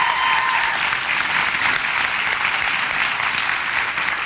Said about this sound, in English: Is there someone with a sign, or are you just really just applauding on your own?